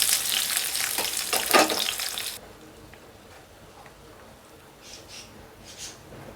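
Chopped onion and green chilli hit hot oil in a pan for a gongura pulao with a bright, loud sizzle that drops to a quieter steady frying after a couple of seconds, with a few soft stirring sounds.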